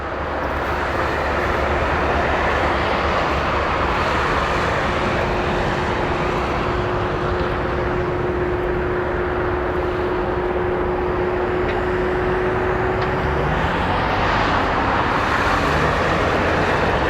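Royal Brunei Airlines Boeing jet taking off from Narita, a loud, steady roar of engine and rushing air that holds near-constant throughout, with a sustained tonal whine running beneath and a faint rising tone near the end.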